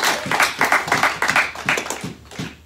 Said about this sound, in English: Give Lord a hand clap.